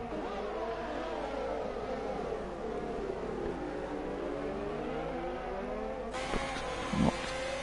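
Two Alfa Romeo racing cars run side by side in an F1 video game race in Australia, their engines giving a steady high-pitched whine with shifting pitch, followed by a sudden louder roar near the end.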